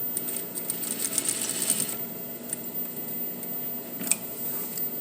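A sewing machine stitches a skirt onto a bodice, running steadily for about two seconds with fast ticking needle strikes, then quieter mechanical clicks and a sharp tap as it back tacks, all close up with no talking.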